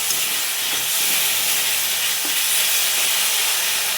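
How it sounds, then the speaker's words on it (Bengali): Spice masala paste frying in hot oil gives a dense, steady sizzle and hiss, loud and close, with no talk over it. "মশলাটা ভাজা হয়ে গেছে, মশলাটার থেকে দেখুন তেল ছাড়াচ্ছে।"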